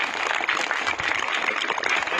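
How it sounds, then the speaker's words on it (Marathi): An audience at a school sports felicitation ceremony claps for a kabaddi coach, a busy, close patter of many hands that stays steady and fairly loud for a couple of seconds. "आपण वायकर सरांचं सुद्धा टाळ्या वाजवून अभिनंदन करू."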